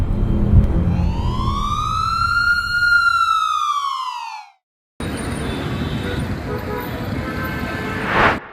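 An ambulance siren wails loud and close, rising and falling in a long sweeping tone for about four seconds, then cuts off; after a short gap, traffic and street noise carry on with a brief louder swell at the end.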